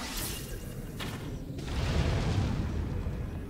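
A fire attack explosion from a Zelda game, Lurelin Village area: a broad, booming burst of flame swells up loud and sustained over a low rumble, after some earlier whooshing effects.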